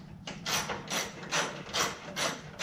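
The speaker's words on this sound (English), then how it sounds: "just undo your bolts" A hand ratchet loosens headlight bolts on a K1500 truck, giving a steady back-and-forth run of clicking pawl bursts, about five even strokes, close and clear with no talk.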